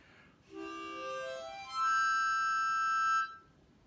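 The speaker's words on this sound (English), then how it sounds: "yeah, it's a harmonica" A harmonica plays a short run of rising notes, then holds a bright chord. It is clear and fairly quiet, alone over faint background noise.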